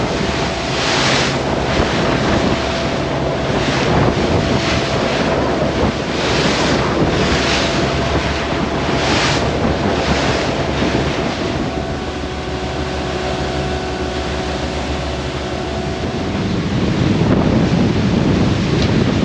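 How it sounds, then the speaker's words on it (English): Motorboat under autopilot pushing through a lumpy sea on a long passage, with steady engine drone, waves rushing and slapping against the hull, and wind buffeting the microphone throughout; no talking. "So this is a very lumpy sea, but it's perfectly doable."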